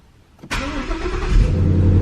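A 2015 Ford Mustang GT V8, rebuilt after a wreck, cranks briefly and fires up close by with a sharp burst, then settles into a deep, loud, rumbling idle.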